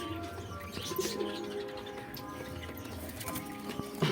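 Soft coos from Giribaz pigeons repeat a few times over a steady background hum, with a brief cooing burst near the end; no one speaks.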